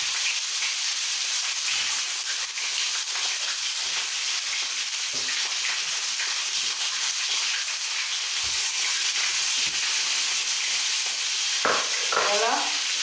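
Fish frying in hot oil gives a steady, close crackling sizzle that runs throughout, with brief louder spatters near the end.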